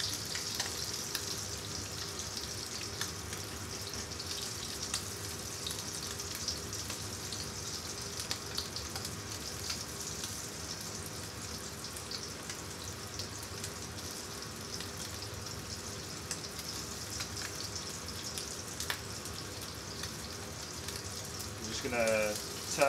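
Orkney scallops cooking in a hot pan give a steady, even sizzle that runs unbroken throughout, close and fairly quiet, with a brief faint clatter near the end.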